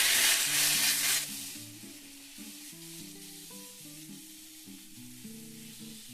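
Garlic, tomato, ginger, onion, green chili and melon seeds hiss loudly in a frying pan for about a second, then the sizzle drops away, leaving a soft melodic tune playing alone.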